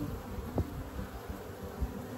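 A honeybee swarm giving off a soft, continuous buzz of many insects, faint and steady, with a few brief louder passes close by.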